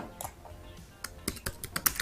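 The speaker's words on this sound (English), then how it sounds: "So in here I can type" Typing on a computer keyboard, a quick burst of crisp, close key clicks that quickens into a fast irregular patter near the end, with no talking.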